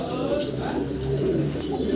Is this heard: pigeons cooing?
yes